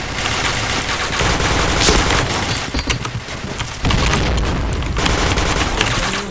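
Dense, loud gunfire fills a match in the online shooter game Point Blank, with rapid automatic bursts and booming shots overlapping almost nonstop and only brief dips between volleys.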